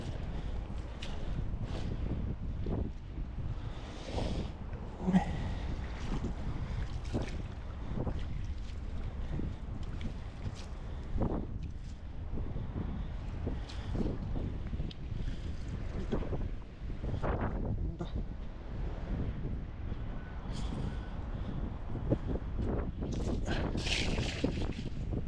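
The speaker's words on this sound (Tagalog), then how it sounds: "Pero matindi yung hangin dito. Malakas." Strong wind roars and buffets continuously, rumbling and gusting with occasional louder bursts, no voices.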